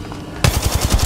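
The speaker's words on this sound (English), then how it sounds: "Opening fire." Rapid automatic gunfire from a weapon in the mobile battle royale game Apex Legends Mobile, set in Kings Canyon, bursts in abruptly after a quiet moment and continues as a steady, loud, close string of shots.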